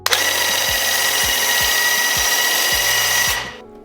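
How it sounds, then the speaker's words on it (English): Airless paint sprayer gun spraying paint onto a dresser, a loud steady hiss with a pulsing motor beat underneath, running about three seconds before cutting off abruptly. "You do have to move pretty quickly with this gun. It shoots out a lot of paint"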